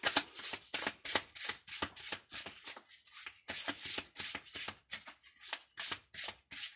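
Oracle cards being shuffled during a card reading, a steady run of close, crisp riffling bursts in an even rhythm, with no talking.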